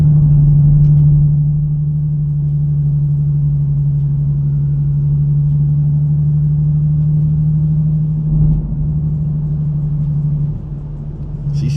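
A Nissan G37 fitted with Vibrant resonators cruising on neighborhood streets, its engine and exhaust giving a steady deep droning hum heard from inside the car, with slight swells as the throttle changes.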